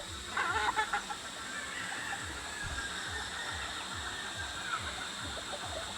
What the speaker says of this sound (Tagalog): pagpakain ng mga alaga natin mga manok